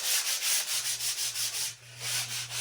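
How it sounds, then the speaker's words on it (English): Brown paper sack rubbed with the grain over freshly stained wood on a picnic table top, giving a steady, close rhythmic scratchy rasping in repeated strokes with a low hum beneath. "burnish it with just a brown paper sack"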